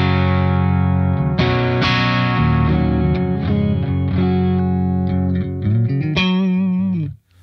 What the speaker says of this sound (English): I've dialed in what I consider to be close to your traditional kind of spring reverb sound